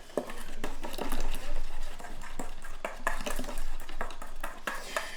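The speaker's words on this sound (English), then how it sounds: "Hopefully the whisking helps a little bit." A whisk beats vanilla bean seeds into milk with quick, rhythmic scraping and clinking against the bowl, close and fairly loud, the strokes running steadily throughout.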